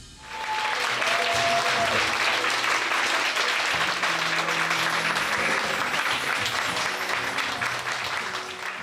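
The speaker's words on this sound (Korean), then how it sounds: "큰 박수 부탁드립니다." Sustained applause from a large lecture audience welcoming a film director and actor to the stage, loud and dense throughout, with faint voices mixed in beneath the clapping.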